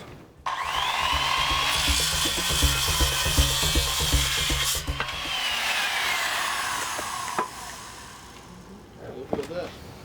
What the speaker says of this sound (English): We're going to take a circular saw, we're going to cut that 45-degree angle